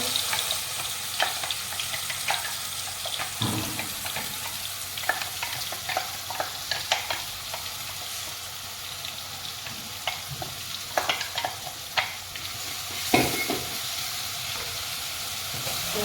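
Potato kachori spice paste sizzles steadily in hot oil, a constant crackling hiss scattered with sharp pops and the clink of stirring, with no voices.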